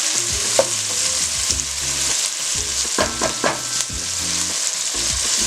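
Red peppers, onion and scallions sizzling in a hot pan, a loud close continuous frying hiss broken by occasional clinks and scrapes of stirring.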